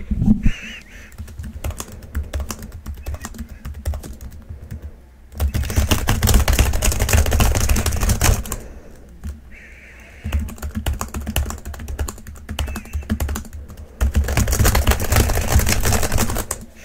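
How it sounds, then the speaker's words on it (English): Clattering keystrokes on a computer keyboard come in dense bursts with short pauses between them, loud and close, with no voices over them. "listen to my keyboard"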